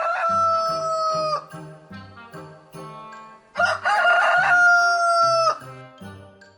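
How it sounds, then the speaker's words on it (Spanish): A rooster crows twice, loud and close, each long cock-a-doodle-doo call stretched over about two seconds with a pause between, heard alone in a rural morning setting. "Volvió a escuchar el canto del gallo que invitaba a comenzar el día."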